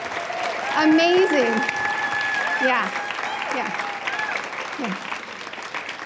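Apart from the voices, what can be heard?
audience applause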